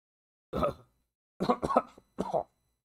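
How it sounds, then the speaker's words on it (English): Three harsh, wet coughs in quick succession, close and loud, separated by brief silences. "Coughing, almost choking"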